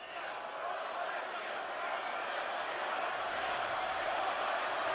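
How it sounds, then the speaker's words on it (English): A huge concert crowd roars and cheers on The Great Tour in Berlin, a dense, steady wall of noise that holds loud and even from start to finish. "That's a nice crowd. That's a huge crowd."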